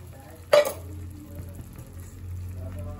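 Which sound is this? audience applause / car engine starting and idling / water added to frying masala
water added to frying masala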